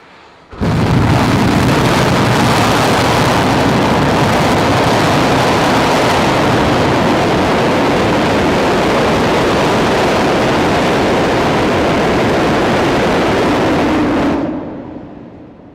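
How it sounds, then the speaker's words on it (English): A rocket static fire with 11 of its 33 methane and liquid-oxygen engines burning starts abruptly as a massive, continuous roar, loud and unbroken for about fourteen seconds before cutting off and fading away. "So here's the static fire. This is loud,"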